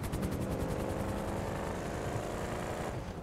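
A helicopter landing in the video game GTA V, with a loud, continuous rotor chop and engine drone close by, steady throughout and fading slightly at the end.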